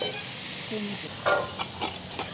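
Fish curry spices with turmeric and red chili powder are sautéed over a wood-fired stove, giving a soft, quiet sizzle broken by a few short scraping stirs.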